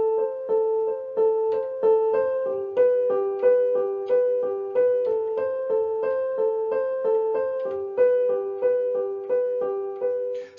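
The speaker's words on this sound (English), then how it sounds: "So that's my right hand quaver pattern." A keyboard plays a right-hand rocking quaver pattern on triads, steady repeated notes alternating in an even pulse, clear and close with no voices.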